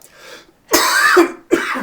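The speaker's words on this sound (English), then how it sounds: "Sorry about my cough" A single throaty cough, then a second shorter cough after a brief pause, loud and close.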